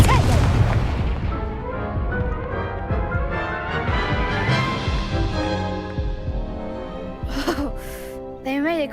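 An Incendio fire spell cast in the video game Hogwarts Legacy, a dense, loud burst of magical blasts and booms under and alongside voices, ending with short crackling flares.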